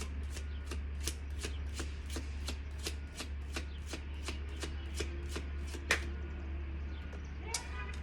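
Cards from a deck are flicked and snapped out one after another, giving an even run of sharp, crisp ticks at a steady pace over a low constant hum, with no voices.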